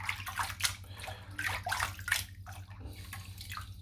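Tap water runs and splashes into a shaving soap bowl holding Mitchell's Wool Fat soap, with close, uneven gurgling and sloshing bursts over a few seconds.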